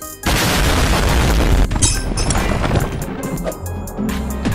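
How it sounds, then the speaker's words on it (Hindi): An explosion from a castle-smashing video game on Apple Arcade bursts in with a loud, broad boom, followed by crumbling, crashing debris and a few sharp impacts before settling into a rumbling tail. "ये हुआ धमाका।"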